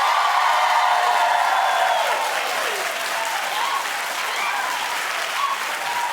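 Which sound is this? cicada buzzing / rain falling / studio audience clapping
studio audience clapping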